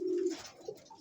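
A single pigeon gives a short low coo at close range, brief and soft, with a faint second note near the end and quiet surroundings.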